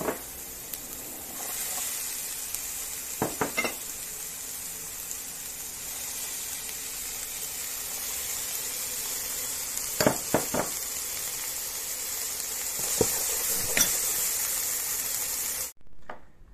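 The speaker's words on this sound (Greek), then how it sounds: "Θα ρίξουμε τις πιπεριές να τις σοτάρουμε." Peppers sautéing in a pan give a steady broadband sizzle throughout, with a few brief clattering stirs and knocks, close and continuous, with no voices.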